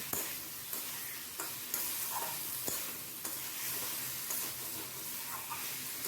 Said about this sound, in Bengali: ভেজে রাখা কচুগুলো মশলার মধ্যে দিয়ে ভালো করে নাড়াচাড়া করে দিচ্ছি